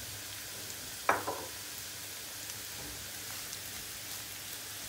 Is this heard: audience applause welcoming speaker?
no